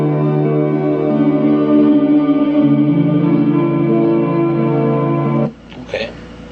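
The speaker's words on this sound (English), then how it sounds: "there's a solo guitar with a lot of reverb." A solo guitar rings out with heavy reverb, sustained notes washing into a long echoing tail before it cuts off near the end.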